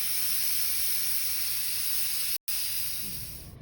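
A pressure cooker with its weight on vents steam while cooking dal, a loud, steady close hiss that cuts out for an instant and then resumes, gradually easing toward the end.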